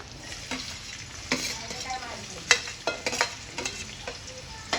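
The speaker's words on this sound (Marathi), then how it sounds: "कांद्याला परतून घ्यायचं" Chopped onion frying in a pan on a home stove, a steady sizzle broken by repeated scraping stirs of a spoon against the pan, close and fairly quiet, with no talk.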